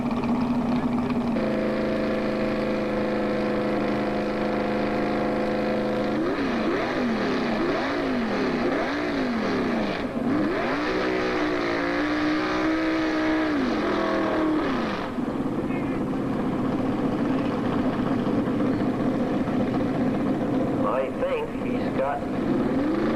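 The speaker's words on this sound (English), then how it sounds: "a 454. Chevy engine running dry block, running alcohol through a carburetor" A 454 Chevy dry-block engine running alcohol through a carburetor roars steadily at a 1987 Lucknow, Ontario tractor pull, its pitch rising and falling as it pulls. A public-address announcer talks over the loud engine throughout.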